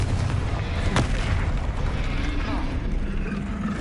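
Spell explosions in the video game Hogwarts Legacy, a deep booming blast with a sharp crack near the start, followed by rumbling impacts under continuous low roar, with a voice speaking over the action.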